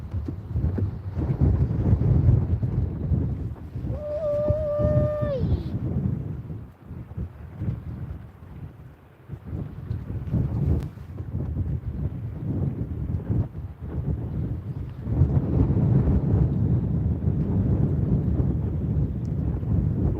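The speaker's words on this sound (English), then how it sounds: "The wind's just moving around so much it's hard to even tell right now." Gusty wind buffets the microphone on a lake during a catfishing outing, a loud, continuous rumbling roar that dips briefly midway, with a short whistling tone near the start.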